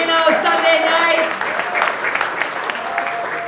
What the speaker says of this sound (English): Clap it up for yourselves one time. Give it up for yourselves, Reno, Sunday night.